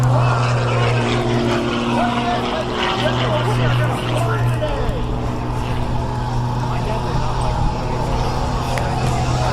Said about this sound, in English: Starting right off with not one hammerhead stall turn, but it goes for a double, one of the most difficult maneuvers of its time.